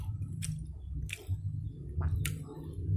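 Someone eating fried rice (nasi goreng) up close, with three or four soft wet chewing and squishing bursts over a low background hum.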